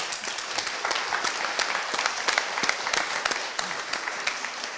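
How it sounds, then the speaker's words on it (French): An audience applauds three speakers at a talk, a dense, even wash of clapping from a roomful of people, moderately quiet and sustained with no speech over it. "On vous applaudit quand même."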